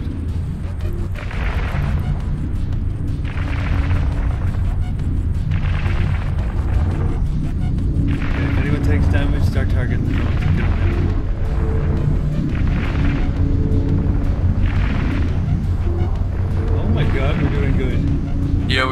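Ship weapons fire in the space game Eve Online, a steady dense barrage of booming shots repeating every second or so over a continuous low rumble, loud and sustained throughout.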